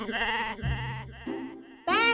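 A person imitates a goat's bleat with a human voice in a family drama scene, giving a few loud, quavering 'baa' calls in a row, close and alone.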